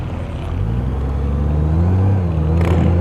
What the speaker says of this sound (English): Oh, motorcycle.